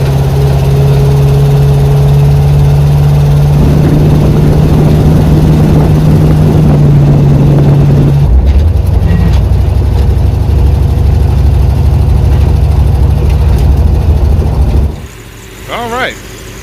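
1970 Dodge Charger with a 413 engine and poorly tuned carburetor on a test drive during an attempted burnout: a loud steady engine drone that revs higher, then drops to a lower rumble before cutting out near the end.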